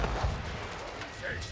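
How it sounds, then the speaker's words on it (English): A Nest of Bees rocket volley in Age of Empires IV fires as a dense rumble of launches and blasts, a steady barrage under battle noise with no pause. "Nest of Bees going to fire off."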